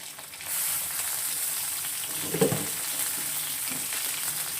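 Eggplant with tomato, tamarind and turmeric fries in a pan with a soft, steady sizzle that swells as cooking starts, broken by one brief clink of a spoon against the pan.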